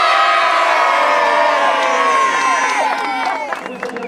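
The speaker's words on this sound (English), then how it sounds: "Big cheer!" A crowd of football fans at a West Ham fan tournament lets out a loud, sustained cheer of many overlapping shouting voices that tapers off after a few seconds.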